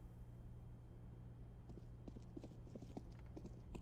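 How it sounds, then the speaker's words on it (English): Footsteps in a professional Counter-Strike match on the Mirage map, BIG versus Heroic at DreamHack Fall 2020, come as rapid, faint, clipped steps over a steady low in-game hum. "hears the footsteps now."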